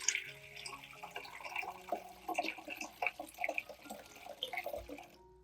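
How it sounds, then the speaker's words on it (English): Clean water pours into a cooking pot in a kitchen, a soft continuous splashing and trickling with small drips, close and moderately quiet, ending abruptly. "Pour clean water into the pot."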